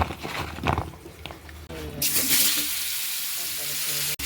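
Salted, turmeric-coated potato pieces dropped into hot oil left from frying fish, erupting into a loud, steady sizzle after a few clinks and stirring sounds, close up.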